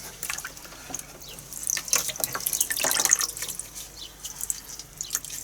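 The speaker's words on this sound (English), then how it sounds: "give it a nice rinse off in the water" Dyed deer hair being rinsed in water, splashing and trickling under a running flow that swells in the middle and eases off, close and alone.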